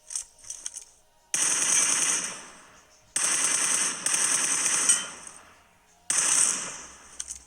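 A 6x-scoped rifle in a shooting video game fires three long rapid bursts with short quiet gaps between them, loud and close, with no talk over them.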